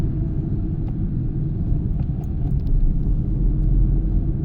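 Inside a Honda Amaze S manual sedan crossing a large speed breaker at low speed, a steady deep road and engine rumble fills the cabin, close and even, with no voices.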